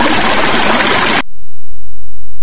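A water sound effect from a karaoke soundcard plays loudly as a broad rushing splash for about a second, then cuts off abruptly into near silence with a low hum.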